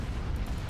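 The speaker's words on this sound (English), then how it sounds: "The little escort frigates have some pretty big explosions too." A large explosion of an escort frigate in the space strategy game Star Wars: Empire at War, a loud, dense rumbling blast that fills the whole short moment with no voices.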